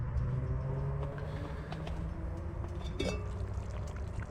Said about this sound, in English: I can hear the stew bubbling